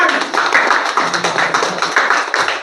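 An audience bursts into dense, continuous applause to celebrate someone reaching Diamond rank. The clapping is loud and sustained throughout, with no voices standing out.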